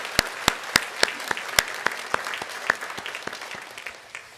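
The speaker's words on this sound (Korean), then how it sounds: "우리 박수로 축복해 주시면 감사하겠습니다." A church congregation applauds during a Sunday worship service, with sharp claps in a loose, uneven rhythm that thin out over a few seconds, heard from a moderate distance.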